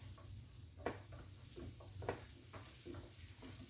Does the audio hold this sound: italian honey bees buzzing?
no